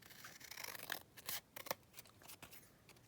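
Scissors snip through scraps of paper tag in a quiet room, several short close crisp cuts in an uneven rhythm with faint rubbing between them.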